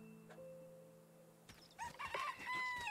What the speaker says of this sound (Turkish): Koca bir tavuk bizi engelledi ya lan.